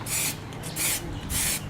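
Spray paint hisses onto a painting surface outdoors in three bursts, each a close, breathy rush lasting under half a second, separated by short pauses.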